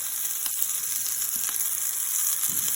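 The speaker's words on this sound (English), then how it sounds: "So I flipped my sausage over because they were already done on one side" Sausages sizzle in a frying pan with a steady, close crackling hiss and occasional soft pops and scrapes, loud and alone.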